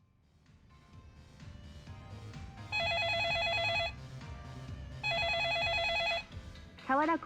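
A telephone rings in the video game Yakuza Kiwami, two long electronic ring bursts repeating loudly over a low game background, with a brief chirp at the end.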